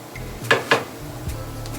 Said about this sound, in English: we are going to add the cauliflower rice